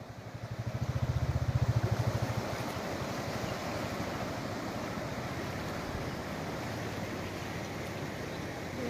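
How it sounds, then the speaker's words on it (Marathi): Flooded Bhima river flowing brim-full in an unseasonal summer flood, a steady broad rushing roar with some wind buffeting the microphone, constant throughout with no voices. "भीमा नदी दुथडी भरून वाहताना आपण दृश्य पाहतोय।"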